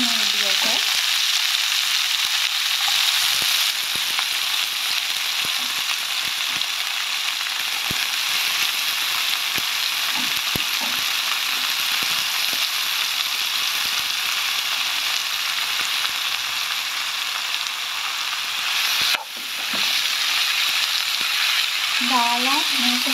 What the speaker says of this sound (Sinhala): දැන් අපි හදාගනිපු අර කොළ මිශ්‍රණය මේකට දාගන්න මේ විදිහට.